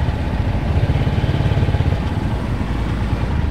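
An 18-year-old motorcycle, the Beruang, just after an engine rebuild, running with a loud, close, steady rough engine rumble and even throbbing pulses throughout.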